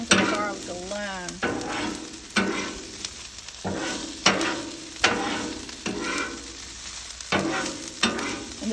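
Onions and garlic fry on a Blackstone griddle, giving a loud, steady sizzle. Repeated scraping and stirring strokes from a spatula break through every second or so, close up, with no talking.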